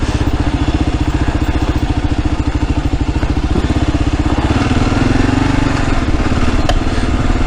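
Loud, close, pulsing thump of a 2022 Kawasaki KLR engine lugging in first gear up a steep hill, a steady low-rpm chug with wind noise and a slight rise in tone partway through.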